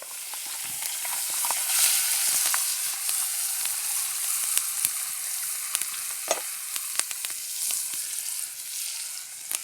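Brook trout fries in butter on a twig stove with a close, constant sizzle and hiss, scattered with sharp pops and crackles throughout. No one talks.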